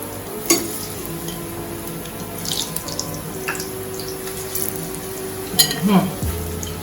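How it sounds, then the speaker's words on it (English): Plantains frying in a pan give a steady, close sizzle with scattered clinks and stirring scrapes, plus brief bursts of running tap water in a kitchen. "So I fry my plantains."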